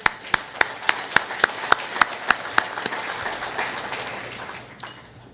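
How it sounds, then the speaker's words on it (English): Applause at a business economic forecast luncheon held by a board of trade: a handful of sharp, evenly spaced claps near the listener, then a broader wash of clapping that thins out and fades. "Round of applause."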